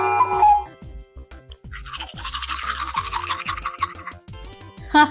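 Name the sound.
teeth brushing with toothbrush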